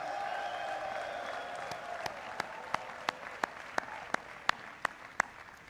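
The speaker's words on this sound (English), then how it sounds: "Graduates, give a big round of applause to your family for everything that they've done for you." At a Morehouse College commencement, a faint crowd murmur and soft applause give way to a series of evenly spaced, sharp claps that ring out steadily one after another in the latter half.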